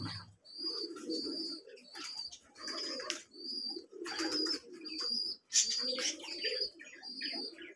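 Giribaz pigeons in a loft coo in repeated low bursts, with sharp chirps and a brief wing flutter mixed in, close and lively, no talk.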